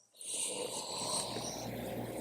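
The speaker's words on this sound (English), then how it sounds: "come into your breath, breathing in and out through your nose" Steady breathing in and out through the nose during a vinyasa yoga flow on a mat, close and continuous with a soft airy rush throughout and no talking.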